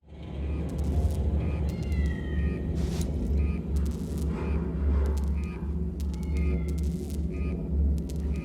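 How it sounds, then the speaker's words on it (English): Cat meows from inside the space station of the video game Alien Isolation, several short mewing cries scattered over a low ambient rumble, fairly faint and distant. "if you listen very carefully you can hear the sounds of meowing"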